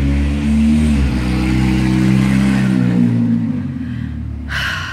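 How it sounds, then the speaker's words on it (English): A loud car revving its engine and pulling away nearby, a deep throbbing exhaust note with rising pitch shifts before it fades out. "somebody wants to go and leave right now with that loud car"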